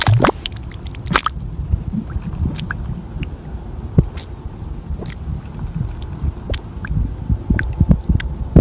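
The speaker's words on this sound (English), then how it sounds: "This is a mud volcano, always bubbling and shifting with constant movement." A bubbling mud volcano sends out wet, squishy pops and soft plops at irregular moments, some sharp and close, over a low steady rumble and light wind.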